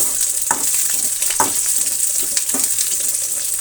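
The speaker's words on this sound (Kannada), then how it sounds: "ಚೆನ್ನಾಗಿ ಫ್ರೈ ಆಗಬೇಕು ಈರುಳ್ಳಿ." Onions, mustard seeds and dried curry leaves frying in hot oil, a steady loud close sizzle running throughout, with a few soft stirring clicks and no voices.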